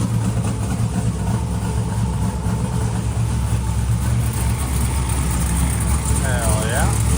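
A twin-turbo NASCAR truck engine runs on a dyno, a loud, steady, deep drone that holds throughout with a slight whine on top and faint voices underneath.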